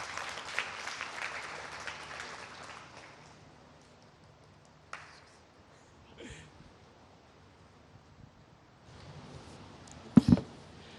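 Applause from an audience at a COP27 panel session in Sharm El Sheikh. It rises at the start, then thins into scattered claps with faint background noise and a few louder knocks near the end.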